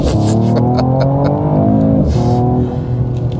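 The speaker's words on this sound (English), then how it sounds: "I'm just gonna floor it from a stop" A 2022 Mercedes-AMG E53 floored from a standstill, its engine climbing loudly in pitch through the revs, dropping briefly at a gear shift, then pulling hard again, close and dominant.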